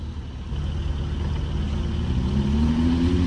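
A Ford GT Carbon Series supercar pulls up, its engine a steady mid-pitched drone that builds and rises in pitch toward the end, fairly close, with no talking over it.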